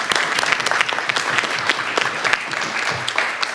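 An audience at an academic book launch gives a round of applause, dense steady clapping from many hands that fills the room throughout.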